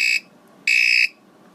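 A General Instrument CPD1/200 digital alarm clock from 1975 goes off, sounding two loud, shrill electronic beeps separated by a short gap, close up with no voices.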